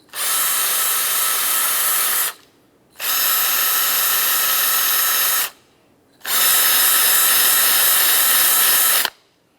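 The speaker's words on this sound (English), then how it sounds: "Use a bore brush for this." Power-driven bore brush scrubbing out the stud holes of a rear brake backing plate bracket on a 1994-2002 Ram 2500, three steady whirring bursts of about two to three seconds each, separated by short silent pauses, loud and close.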